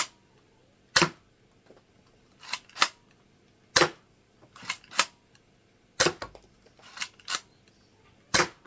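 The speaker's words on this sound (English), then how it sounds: "There we go, that's shooting a hard target." Sharp, loud pops from a ZWQ FireRat foam blaster firing at a hard target, about a dozen single shots spaced irregularly, each a crisp snap with a short impact.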